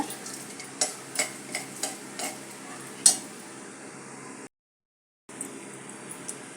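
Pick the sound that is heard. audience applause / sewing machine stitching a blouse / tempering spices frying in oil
tempering spices frying in oil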